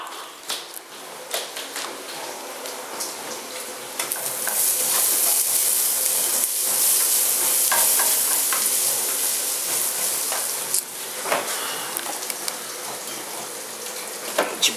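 Food sizzles and fries steadily in a pan on a home stove, with repeated scraping and stirring clicks from a utensil, loud and close, rising in intensity midway; no voices.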